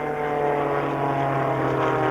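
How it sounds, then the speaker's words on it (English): A racing airplane's propeller engine drones loudly and steadily at the 1994 Dayton air show races, a sustained buzzing hum with a strong low tone, with faint announcer talk underneath. "in the blue and white airplane number 77 Blueberry"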